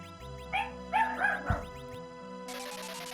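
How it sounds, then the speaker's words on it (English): A dog barks several times close to the mic, a few short yips and barks clustered early on, with a steady electronic background hum and a burst of noise near the end; no one talks. "Did I hear a dog?"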